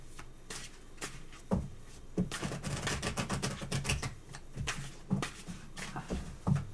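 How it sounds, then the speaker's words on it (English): Repeated crisp riffles of a tarot card deck being shuffled, bursts of flapping clicks in quick succession, close by, with a few soft thumps of the deck settling. "One more riffle. One more shuffle."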